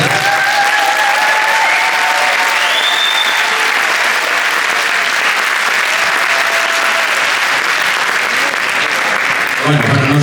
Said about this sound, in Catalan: pero no os aplaudáis tanto que aún no ha pasado